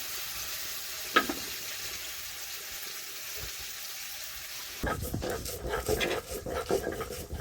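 Prawns fry in a pan with a soft, steady sizzle, growing louder and busier with stirring and crackling toward the end, close and moderately quiet.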